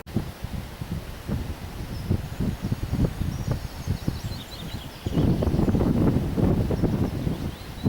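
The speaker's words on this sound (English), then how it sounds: "it's pretty breezy, Andy." Outdoor wind buffets on Old Military Road in Glen Ogle, rumbling and gusting against the microphone in low thumps, growing stronger and more continuous in the second half.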